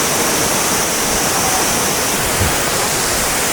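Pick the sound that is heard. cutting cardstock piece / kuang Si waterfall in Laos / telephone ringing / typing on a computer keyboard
kuang Si waterfall in Laos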